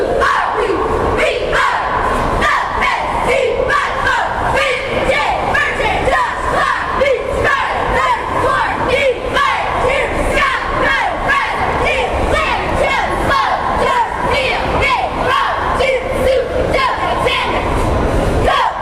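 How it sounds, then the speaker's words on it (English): A high school basketball cheering squad performs on the gym floor amid a roaring crowd, with continuous loud shouting and rhythmic chanting filling the space throughout. "the Bobcat cheering squad takes the floor"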